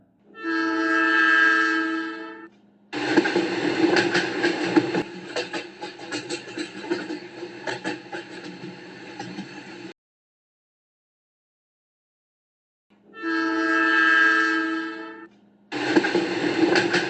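A train sound effect for a spooky evening tale: a loud, sustained horn blast opens, then the heavy clattering rumble of railcars rolls past for several seconds, falls silent, and another long horn and rumble follow.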